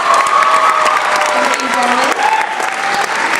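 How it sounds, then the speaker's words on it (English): Loud audience applause at a men's choir winter concert greets two soloists, a thick wash of clapping with scattered cheers and voices above it, sustained throughout. "Let's give them a round of applause."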